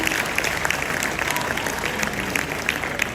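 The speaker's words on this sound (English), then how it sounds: "One more time, a round of applause." An audience at a Ghanaian ceremony honouring Ashanti Kingdom heritage breaks into loud, dense applause. The clapping holds steady and full throughout, with faint crowd murmur beneath it.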